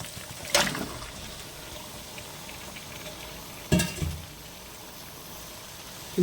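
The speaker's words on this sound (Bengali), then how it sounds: "এবার আমি চিকেনগুলোকে ঢেলে দেবো এতে।" Chicken pieces are tipped into a pan of cooked-down spice paste for chicken and potato curry, making two short bursts of sizzle and splatter over a quiet, low frying hiss.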